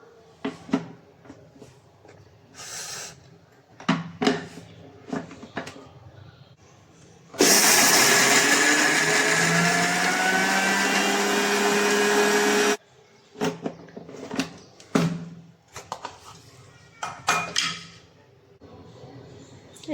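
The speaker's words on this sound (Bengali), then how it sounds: "এই ডালটা ব্লেন্ডার করে নেব।" Blender grinding khesari lentils with garlic and green chilies, a loud continuous whirring burst of about five seconds set between quieter kitchen clatter.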